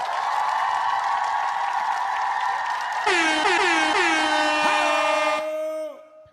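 A loud air horn sound effect blasts in a rising, wavering pattern, layered over a dense bed of crowd applause and cheering, with the horn cutting off before the end and no talking.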